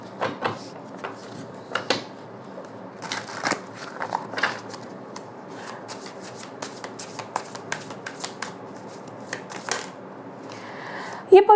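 Tarot cards shuffled and handled in repeated papery riffles and soft flicks, close and fairly quiet, with a brief clatter at the end; no talk.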